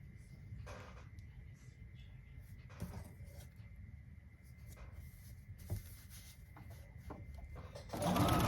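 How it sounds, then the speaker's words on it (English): A sewing machine stitches quilt units together for a puzzle mystery quilt, running in a steady low whir that stops and starts several times, fairly faint, with a louder rustle of fabric near the end. "you're going to sew another unit to it"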